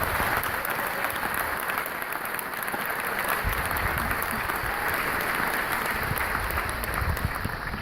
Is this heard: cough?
no